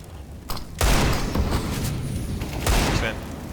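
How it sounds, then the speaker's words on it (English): Desert Eagle pistol headshots in the game CS:GO, with sharp, loud gunshot cracks rising above a busy game soundscape and overlapping voices. "I just wish I could hit more of these sweet deagle headshots"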